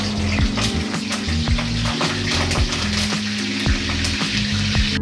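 Curry leaves drop into hot oil with onion, cumin and mustard seeds in a home kitchen, giving a steady, close sizzle and crackle with occasional stirring clinks, no talking.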